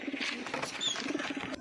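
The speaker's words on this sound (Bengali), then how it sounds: "বন্ধুরা, আমরা ছেড়ে দেখাচ্ছি পায়রাগুলো।" A setting pair of pigeons released from a bag gives soft, close cooing and brief bird calls with light rustling over a quiet room background.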